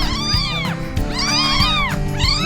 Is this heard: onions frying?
no